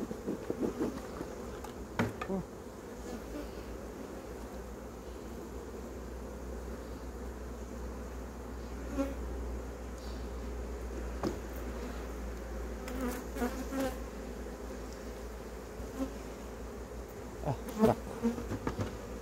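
Honey bees buzz steadily at an open hive while frames of wax foundation are fitted, a dense, continuous drone with occasional sharp clicks and knocks of hive work cutting through at close range.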